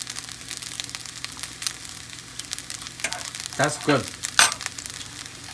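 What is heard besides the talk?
stirring and mixing pulao in a pan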